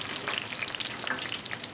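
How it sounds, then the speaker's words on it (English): Chips frying in hot oil in a deep fryer give a steady, close sizzle, a dense bed of crackling bubbles with small pops scattered throughout, with no talking over it. "gently lower the chips into the oil."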